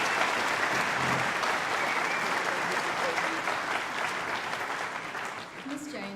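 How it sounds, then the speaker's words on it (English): Sustained applause from an audience at a Year 12 high school graduation ceremony, a dense, steady wash of clapping that thins slightly and tails off near the end. "we please get another round of applause for their talents?"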